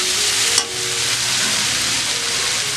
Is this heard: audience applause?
no